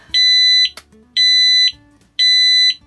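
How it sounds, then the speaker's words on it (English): A newly fitted smoke alarm on a narrowboat sounds three loud, shrill, steady beeps of about half a second each, spaced roughly a second apart, with a quieter click at the end of each tone. "New smoke alarm on."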